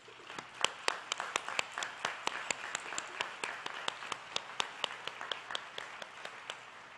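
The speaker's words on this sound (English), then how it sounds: "Let's give them a round of applause." Thin, fairly distant clapping from a sparse audience at a high school graduation ceremony honoring staff, with sharp individual claps standing out in an uneven rhythm.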